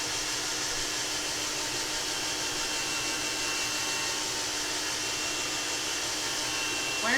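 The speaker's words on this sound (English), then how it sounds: "Here I'm going to have to turn my hair dryer on because we're to the point now" A hair dryer blows steadily to dry a watercolor painting, a loud, continuous airy whoosh with a constant pitch throughout and a brief bump near the end.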